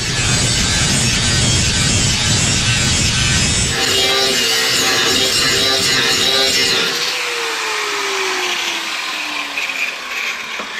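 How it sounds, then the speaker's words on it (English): An angle grinder grinds a metal mount flat during a cooling system build for a 1974 Chevy C20 LS swap, a loud, close, harsh whine that later drops to a lower steady tone as the disc spins down. "I'm going to come in here and I'm going to grind that flat right there"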